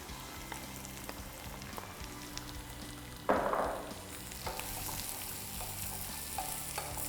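Zucchini drops into a pot of cooking leeks and onions, setting off a sudden sizzle that fades into a steady, gentle frying hiss, close and without talk.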